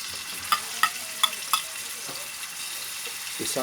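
Garlic frying in hot oil and stirred with a bamboo ladle, giving a steady close sizzle with four sharp scraping knocks early on, then softer stirring toward the end.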